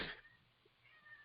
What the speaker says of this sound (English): cat hiss